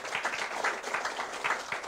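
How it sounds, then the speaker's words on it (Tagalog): A brief round of clapping from a group of people, moderately loud and quick, with no voices. "Yung malakas po na palakpak"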